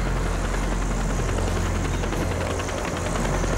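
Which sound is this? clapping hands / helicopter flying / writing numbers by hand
helicopter flying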